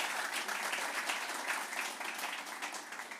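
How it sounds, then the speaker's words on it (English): An audience at a pavilion closing event gives a round of applause, a steady, fairly faint wash of clapping heard from a distance throughout. "Big round of applause to everyone."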